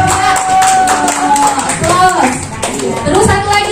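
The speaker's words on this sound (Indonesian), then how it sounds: "tepuk tangan dulu buat Mbak" A group clapping for a participant in an equivalency-education training class, a few seconds of scattered hand claps mixed with overlapping talk and voices close by.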